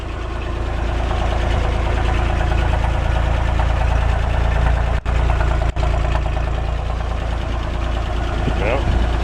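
A 1967 Jeep CJ5 engine idles steadily and loud for the whole stretch, a busy mechanical rattle of noisy lifters running under the low rumble, with two brief dropouts midway.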